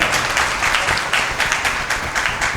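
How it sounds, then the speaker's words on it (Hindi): An audience at an appreciation conference for Christian doctors and nurses applauds to welcome the guests: a steady wash of moderate clapping, unbroken and without speech. "दिल की गहराइयों से आप सबको भरपूर तालियों में खुशामदीद कहता हूँ"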